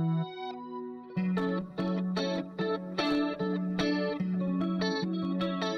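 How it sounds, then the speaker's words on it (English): Electric guitar played live through a rack of echo and delay effect units at a solo concert, a sustained low note then repeated chiming chords and plucked notes with echoes trailing, loud and continuous with no talking. "I have a lot of echo units. That's how we do it."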